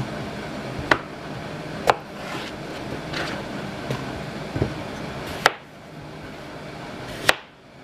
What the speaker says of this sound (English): Cut it in half and then in quarters.